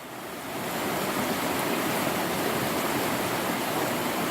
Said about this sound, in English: And there is a lot of water running through.